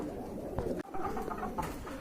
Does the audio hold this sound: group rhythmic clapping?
no